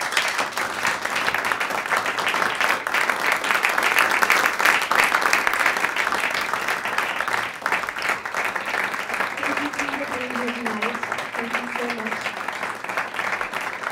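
Warm, sustained applause from a live concert audience for a harmonica player and a pianist, dense and steady throughout with a voice speaking faintly over it toward the end.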